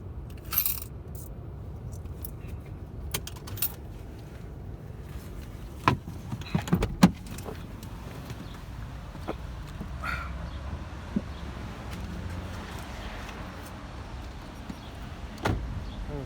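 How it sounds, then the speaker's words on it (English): Car doors on a parked car open and shut as people climb out, a few sharp clunks and clicks bunched together midway against a quiet outdoor background. "we're going to get out of the car"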